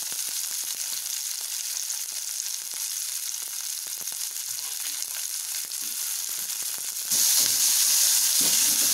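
Onions frying in a pan for an Udupi-style chicken sukka, a steady close sizzle that grows louder and brighter for the final two seconds, with no voices.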